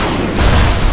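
A grenade flung by telekinesis in BioShock explodes in a single loud, low boom that swells midway and rumbles on to the end.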